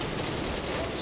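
A tank's machine gun rattles in a continuous burst at fleeing crew in the World War II game Steel Fury, with a Pz.38 light tank near Kharkov in 1942. The sustained rattle is moderately loud and steady.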